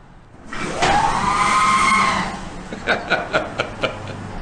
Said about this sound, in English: so again, the R2-D2 screaming door.